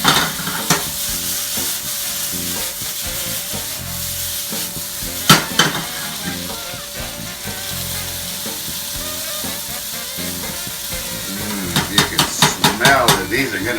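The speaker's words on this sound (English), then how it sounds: "we got to make sure that we're browning the potatoes pretty evenly" Potatoes seasoned with pepper and garlic salt fry and brown in a pan with a steady, continuous sizzle, broken by occasional stirring scrapes and a burst of utensil clatter near the end.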